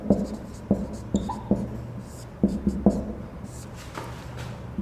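Writing an example on a board, with sharp taps and short scratchy strokes in an uneven rhythm, close and clear, a few quiet pauses between them.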